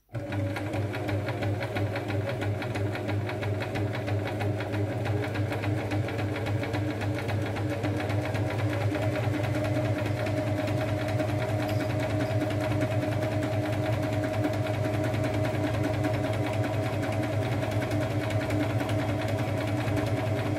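A sewing machine runs steadily and close for about twenty seconds, stitching fabric for a zero-waste cushion with a continuous, even whir.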